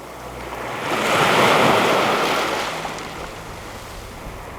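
Sea surf washes onto the shore in Albania in one broad swell that rises and fades, with steady wind-like hiss and no voices.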